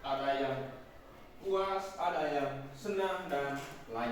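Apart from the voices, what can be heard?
None of the usual background noises is heard.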